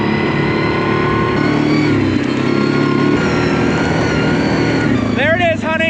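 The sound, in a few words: quad ATV engine running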